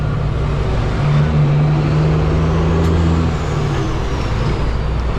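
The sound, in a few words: semi truck engine and turbo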